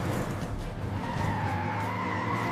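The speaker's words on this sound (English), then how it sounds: "look at that super fast fire truck" A super fast cartoon fire truck skids along, a loud continuous tire screech with engine roar that holds steady for the whole stretch, close and unbroken.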